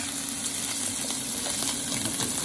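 Salmon skin searing in a hot pan, a steady close hiss and crackle of sizzling oil holding at an even level throughout.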